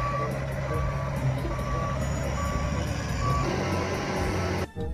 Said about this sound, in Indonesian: Wah, kalau yang ini truk pasir teman-teman.